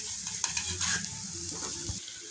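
Crushed boiled potatoes go into a hot pan of frying dosa filling, giving a soft sizzle with stirring and scraping for a couple of seconds, close and steady.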